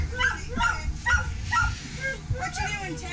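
Dogs in a racing greyhound kennel holding about 75 dogs yip and bark in a repeated series of short calls at mid distance, with whimpers and people talking over them.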